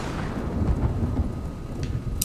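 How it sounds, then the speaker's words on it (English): Deep rolling thunder rumbles continuously through a stormy night in the video game Ghost of Tsushima, a loud low roar with faint rain hiss and a brief sharp crackle near the end, no voices. "Shut up, Thunder. No one wants you around."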